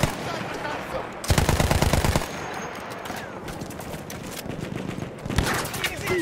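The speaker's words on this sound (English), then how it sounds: "Quel cannone antiaereo sta battendo i nostri bombardieri!" An anti-aircraft cannon fires in the video game Battlefield 1, loud rapid bursts of shots, one about a second long and a shorter one later, amid battle noise and voices.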